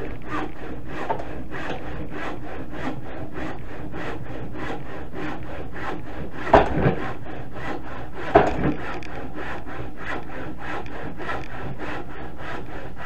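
A handsaw cuts through a wooden board in steady, evenly spaced back-and-forth rasping strokes, close and continuous, with two brief louder knocks partway through.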